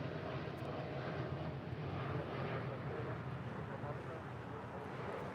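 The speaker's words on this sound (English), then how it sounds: "That is United 231 departing to London Heathrow on a 787-9 Dreamliner" United Boeing 787-9 Dreamliner departing LAX for London Heathrow, a steady broadband jet roar that holds loud and constant throughout, with faint voices under it.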